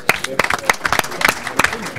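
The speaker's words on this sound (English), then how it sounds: "I just want to give you another round of applause today" Audience at a congressional breakfast gives a round of applause, sharp scattered claps in an uneven rhythm, fairly close, with a voice speaking over them.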